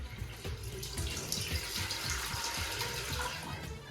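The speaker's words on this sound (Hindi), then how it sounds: "सबसे पहले हम इसमें ना पानी डाल लेते हैं" Water from a tap pours steadily into a cooking pot, the first step in boiling macaroni at home, a continuous close splashing fill running throughout with no talk.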